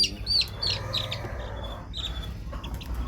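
Small chicks chirp and peep in a portable improvised brooder, several high calls scattered over a constant low rumble of background noise, with no talking.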